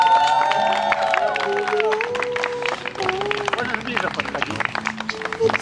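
Wedding guests break into loud, sustained applause with cheering and crowd babble, dense clapping running throughout over background music.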